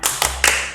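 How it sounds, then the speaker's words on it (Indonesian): Three sharp handclaps ring out in quick succession as a Sunday school group does a rhythmic spirit clap, loud and close. "Tepuk semangat."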